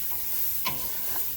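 Chopped onions and other vegetables hit a hot, dark roux for gumbo in a restaurant kitchen, giving a soft, steady sizzle with stirring and one brief louder hiss partway through.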